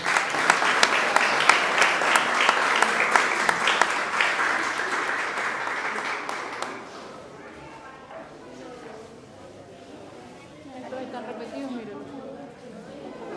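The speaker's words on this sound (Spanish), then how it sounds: "Vamos a darle un aplauso a los niños" A church congregation at Mass claps for the children with dense, sustained applause for several seconds before it dies away into murmuring voices and shuffling.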